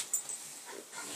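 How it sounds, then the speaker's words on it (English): Dogs heading out on a night walk, with a couple of faint, brief vocal sounds over a quiet, hissy background; the sound is distant and soft and carries no speech. "Yeah, there's the dogs."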